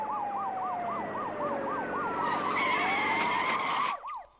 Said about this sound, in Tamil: நம்ம வண்டிக்கு முன்னால போற போலீஸ் ஜீப்ல இருந்து வர்ற சத்தம் தான் சார்.